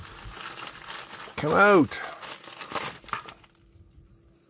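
Mail package being opened, its plastic packaging crinkling in a few close rustling bursts while a person speaks.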